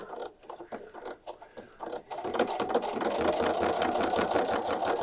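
Sewing machine stitching steadily along a long edge of fabric scraps for Christmas decorations, a faint motor whir and tapping at first, then a loud continuous rapid needle run through the second half.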